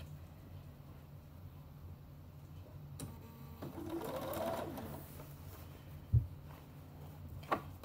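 Sewing machine running a narrow zigzag stitch on stretch fabric for shorts, a quiet motor whir starting partway through and building, followed by a couple of sharp clicks, with no talk.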